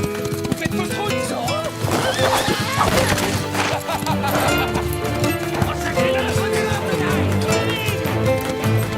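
Cartoon horses neighing and galloping with clip-clop hoofbeats, loud and busy under a constant music and effects mix, with a voice speaking over it.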